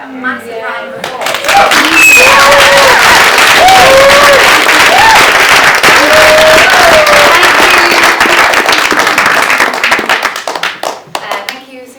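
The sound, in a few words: audience applause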